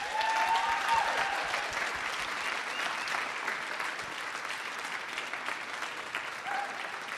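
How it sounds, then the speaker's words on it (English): An audience at a Peace Corps storytelling showcase on the Millennium Stage applauds steadily throughout, a dense sustained wash of clapping with a brief voice faintly above it. "another warm round of applause for our fantastic storytellers tonight."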